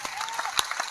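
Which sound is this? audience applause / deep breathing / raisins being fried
audience applause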